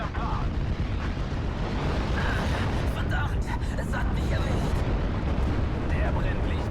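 Steel Division: Normandy 44 artillery fires in a dense, continuous barrage of distant booms and rumbling explosions, a steady wall of battle noise with no clear gaps.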